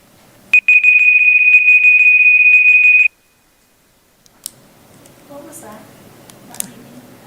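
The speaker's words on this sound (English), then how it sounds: "That's the timer." A meeting timer at a school board of trustees session sounds one loud, steady electronic beep tone lasting a few seconds, followed by quiet room noise and faint talking.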